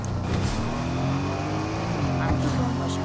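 A car being driven in the video game Fortnite, a steady engine hum with shifting pitch that holds throughout the short stretch at moderate loudness.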